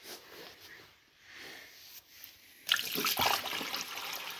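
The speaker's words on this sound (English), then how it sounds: "Draining coolant, I just have this little tiny tub." Coolant from a budget bobber motorcycle pours into a small tub, starting as a faint trickle and then becoming a louder, close splashing stream partway through.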